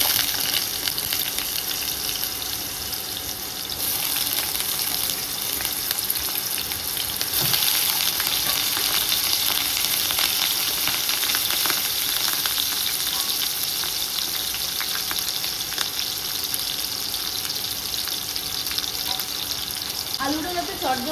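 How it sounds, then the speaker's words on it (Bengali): Potatoes dropped into hot oil in a pan sizzle and crackle continuously, a loud dense frying hiss that flares up sharply partway through and carries on steadily. "তেল ভালো গরম হয়ে গেছে, আমি প্রথমে আলুটা এর মধ্যে ছেড়ে দিচ্ছি।"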